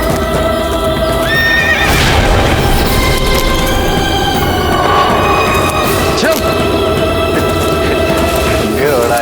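A horse neighs loudly and close by while its hooves clop in a steady rhythm, with other whinnies rising over the clatter in a historical drama setting.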